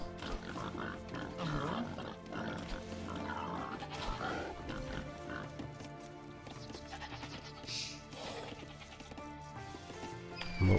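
Boar grunts and animal bleats from the video game Age of Empires II, short bursts scattered over a busy layer of game sound effects and ambient music, at moderate level.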